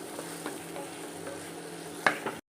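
Prawn curry for biryani being mixed in a pan, a low simmering sizzle with a few soft spoon scrapes and a sharper clink near the end before it cuts off, no speech.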